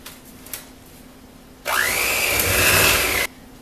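An electric mixer runs on gluten-free chocolate chip cookie dough in a single burst of about a second and a half, a close steady whir that starts and stops abruptly.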